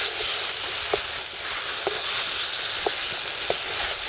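Cumin paste, turmeric and salt masala for a sea crab curry fry in a pan with a dense, even hiss, broken by a few light spatula taps spaced about a second apart.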